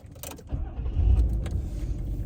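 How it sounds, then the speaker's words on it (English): A 1986 Nissan Maxima starting up from inside the cabin: a brief click and crank, then the engine catches and settles into a low, steady idle close by. "we're strapped into the Maxima. Let's fire it up."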